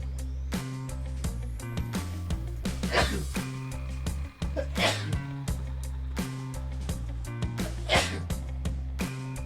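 Three quick sneezes burst out one after another over loud, rhythmic music playing throughout.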